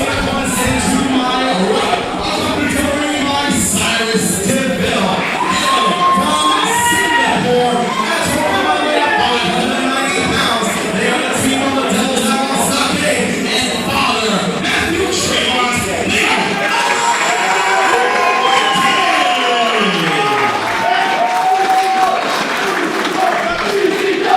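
A Brooklyn crowd at a Five Boroughs Wrestling show applauds and cheers with loud, dense clapping and shouting throughout, while voices and a commentator talk over the noise.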